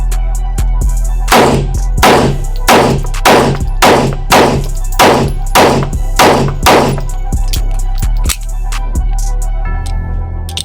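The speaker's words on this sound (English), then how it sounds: "All right, so we're gonna do the same thing with the subcompact. From the low ready, taking the headshots." Canik subcompact pistol fired from low ready at a range, about eleven loud, sharp shots in a steady, quick rhythm, close to the microphone and with no talk over them.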